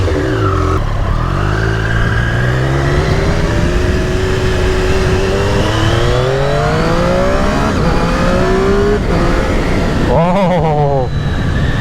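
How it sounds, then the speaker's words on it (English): A 2020 Triumph Street Triple RS motorcycle engine revs hard and close, its pitch climbing through rising sweeps at high RPM, with a sharp rev burst near the end. "this bike feels so good at high RPMs"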